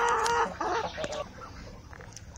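Hens clucking and squawking in a farm flock of egg-laying chickens of many colours, several birds calling at once, busiest at the start and then thinning to scattered clucks.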